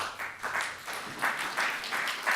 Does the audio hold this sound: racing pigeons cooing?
no